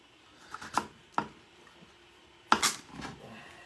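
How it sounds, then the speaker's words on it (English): A knife cuts up squash on a board for tomato and squash soup, giving a few sharp, separate chops spaced apart with quiet gaps between them, close and fairly soft, with no talking. "So now, cutting up my squash."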